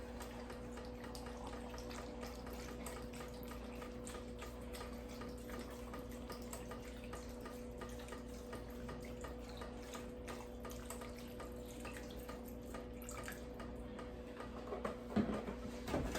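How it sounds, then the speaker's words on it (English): Vegetable stock poured from a 32-ounce box into a stew pot of mushrooms and garlic, a steady continuous liquid trickle with a low hum underneath and a couple of clinks at the end. "So now we're going to pour the remainder of your vegetable stock in."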